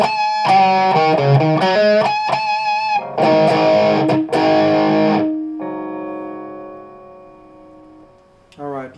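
High-gain guitar amp with the gain near twelve o'clock and a Boss NS-2 noise suppressor engaged: distorted chords and a long sustained note, then a sudden cut to near silence as the suppressor gates the tail.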